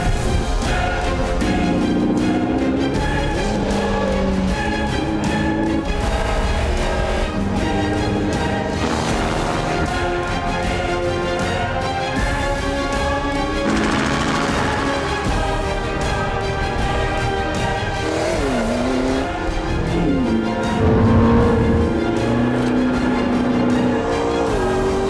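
A McLaren MP4-12C sports car driven hard, its engine loud and close, revving up and down through gear changes with sweeping pitch and a few thumps.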